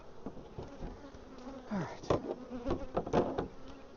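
Honey bees buzz around their hive in a steady, quiet drone, with a few individual insects passing close by and briefly growing louder.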